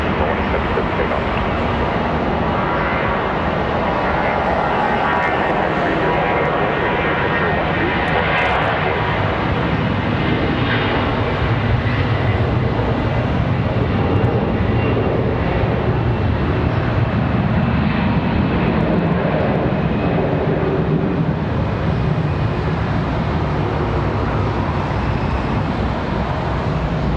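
Jet airliner on its takeoff roll at Charlotte Douglas International Airport, a steady, loud engine roar that holds for the whole stretch with broadband rumble and hiss, no talking over it.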